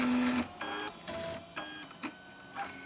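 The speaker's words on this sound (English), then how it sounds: "In this case, I'm varying the speed of the printer. If I turn it down, you should be able to hear it slow down in the background." A 3D printer runs close by with a busy stepper-motor whine and rhythmic mechanical bursts, its pace shifting as the print speed is turned down, with no talking.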